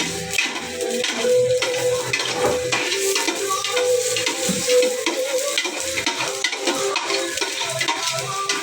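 Onions and garlic fry and sizzle in hot oil for a home-cooked chicken curry, with a steady crackle and repeated stirring scrapes against the pan running throughout, close and continuous.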